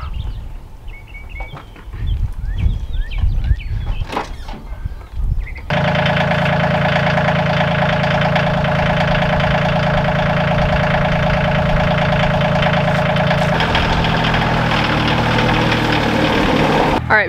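A tractor engine starts after a few seconds of outdoor rustling and footsteps, then idles loud and steady close by with a constant throbbing drone to the end.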